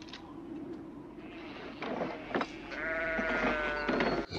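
Sheep bleat nearby, a wavering call rising clearly over a windy outdoor background with scattered rustling.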